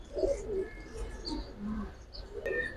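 A young pigeon, probably a male chick of a fancy breed, gives faint soft coos and chirps in short intermittent bursts against quiet background noise.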